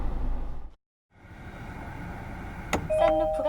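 A 2020 Kia Seltos safe exit assist alarm warns of a passing car: a clear electronic chime with short repeated tones rises near the end, over low steady cabin and road hum.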